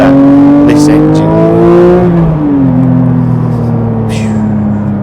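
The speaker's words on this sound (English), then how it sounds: "we can hear this sports exhaust" Porsche 992 GT3 Touring with sports exhaust on the road, a loud engine drone rising in pitch, then a brief dip at a gear change before pulling strongly again, heard from inside the car with a voice talking over it.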